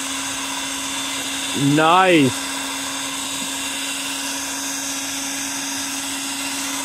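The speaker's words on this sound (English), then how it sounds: "So you guys ready to test this out? 2-in-1 leaf blower." A cordless 20V ALLOYMAN 2-in-1 leaf blower and vacuum runs with a steady, even motor whine throughout, while a person briefly speaks over it.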